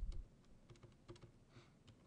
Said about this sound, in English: I'm going to type in font color equals,